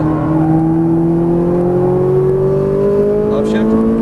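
Ferrari 458 Italia on a race track, its engine note rising steadily in pitch under acceleration, loud and close, with a rising whine throughout.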